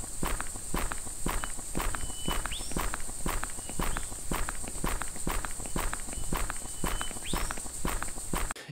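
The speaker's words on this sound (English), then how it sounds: "triggering the same footstep sound" An identical footstep sample triggered over and over in Unreal MetaSounds, about two crisp, loud steps per second in an even, mechanical rhythm with no variation, heard alone over a steady high hiss.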